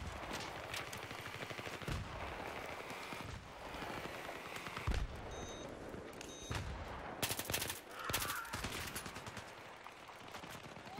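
Gunfire from the shooter Battlefield 3 during a team deathmatch on the Canals map, with sustained bursts and repeated shots over a constant background of battle noise.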